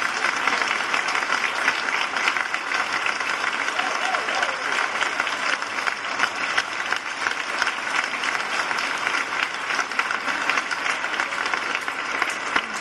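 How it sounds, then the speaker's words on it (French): A church congregation at an Assumption Mass applauds the organists with long, sustained, dense clapping from many hands, loud and reverberant, holding at a steady level for the whole stretch. "que vous les applaudissiez de tout votre cœur."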